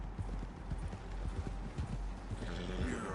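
Horse hooves clip-clopping at a steady walking rhythm in the video game Red Dead Redemption 2, with a short whinny near the end, mid-distance and fairly quiet, no talk.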